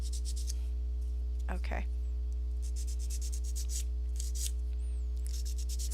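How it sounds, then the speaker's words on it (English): Sandpaper rubs burrs off a part by hand in repeated short rasping strokes, close and fairly quiet over a constant low hum, with a single brief spoken word partway through. "you can just take out some sandpaper and sand it off"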